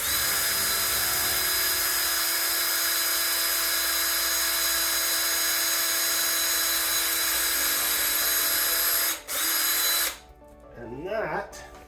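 A power drill bores into a Honda CRF 250/300 L dampening-rod spring assembly during a rally raid kit install, a loud, steady whine for about nine seconds that cuts off abruptly, followed by a brief quieter pause and faint movement.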